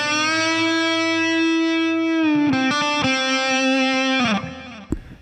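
Distorted electric lead from an EVH Wolfgang Standard Exotic with spalted maple top, run through light reverb and delay: a long screaming sustained note, then a quick run of shorter bent notes, ending abruptly.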